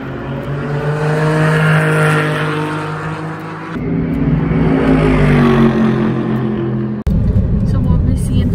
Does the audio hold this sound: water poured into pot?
no